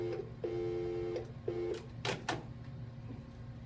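Telephone dialing tones on a phone line, a few steady beeping tones in short bursts followed by clicks over a low constant hum.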